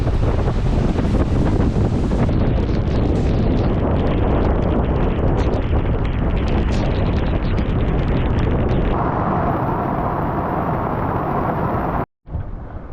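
Strong, roaring wind buffets the microphone on a sailboat at sea in a storm, loud and constant, with rushing water beneath; the gusts ease slightly toward the end before a brief cutoff.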